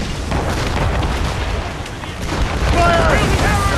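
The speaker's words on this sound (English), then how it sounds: "They're firing a volley!" Continuous loud rumbling booms from a ship cannon volley in Assassin's Creed Rogue sit over dense battle noise, with shouted voices rising near the end.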